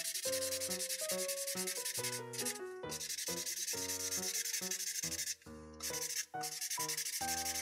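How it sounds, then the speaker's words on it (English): A magic ink pen colouring on a Paw Patrol and Shopkins paper page makes continuous scratchy rubbing strokes with brief pauses, heard close over background music. "Let's color in Ryder first"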